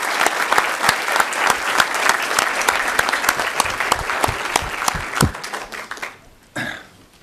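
A council meeting audience at St Tammany Parish Government applauds, dense steady clapping from many people in a room that tapers off after about six seconds, followed by a brief murmur.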